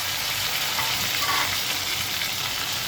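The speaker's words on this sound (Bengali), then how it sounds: "এবারে হাই হিটে এটা ভেজে নেওয়া যায়।" Chicken frying over high heat in a pan, giving a loud, dense, continuous sizzle that holds steady with no pauses or talk.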